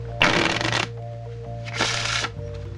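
Playing cards are riffle-shuffled twice in quick bursts, mixing face-up and face-down cards for a magic trick, close crisp fluttering rasps with a short pause between them.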